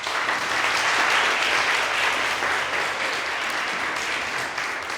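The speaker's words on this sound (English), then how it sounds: "Let's give the students a round of applause." An evening community event audience applauding the student organizers, a thick, continuous roar of clapping from a full room, loud and even from start to finish.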